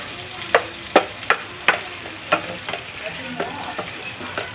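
Garlic, onion and tomato sautéing in a pan, a steady close sizzle broken by sharp clacks and scrapes of a utensil stirring at irregular intervals, with no talking.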